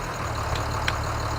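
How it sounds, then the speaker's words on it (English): A tractor in Farming Simulator 2013 idles with a steady, continuous engine drone, a low rumble under faint higher hiss, broken only by a couple of brief soft clicks; no one speaks. "Here's another tractor, a Yours' tractor."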